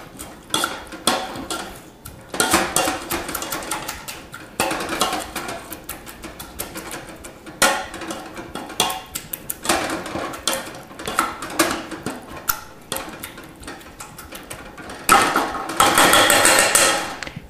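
Cooked apples being mashed into a chunky sauce in a pan, a series of irregular clacking and knocking thuds from the masher against the cookware, close and distinct.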